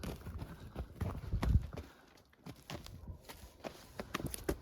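Faint hoof clops of a draft horse, an Ardennes-Percheron cross mare, walking on hard ground, irregular and somewhat distant, with a brief quiet stretch midway.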